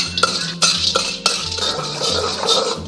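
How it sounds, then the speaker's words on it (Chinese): Rock sugar stirred in hot oil in a wok to make caramel: a metal spatula scrapes and clinks sharply against the pan several times over a steady sizzling hiss, close and fairly loud, with no voices. "我们把油倒一些起来，开始炒糖色，加入100克左右的冰糖，炒至融化。"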